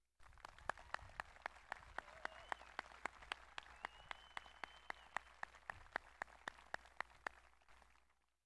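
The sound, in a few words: crowd applause at a graduation ceremony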